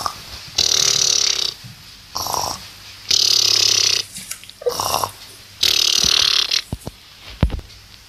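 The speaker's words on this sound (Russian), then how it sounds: "Храпит, конечно, она жестко." Loud snoring in an animated gacha-style series, in repeated drawn-out snores separated by short snorts and gasps, close and dominant.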